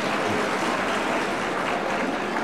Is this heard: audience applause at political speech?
yes